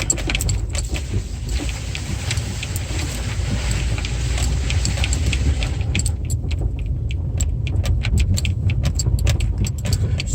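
A 2011 Hyundai Santa Fe AWD V6 creeping along a rutted off-road trail, with a low engine and road rumble under a steady jingle of rattling keys and clicks. The sound is close and continuous, and no one speaks.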